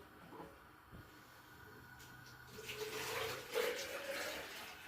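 Tap water runs into an electric kettle in a village kitchen, a soft, steady stream that grows fuller and louder partway through, with faint background noise.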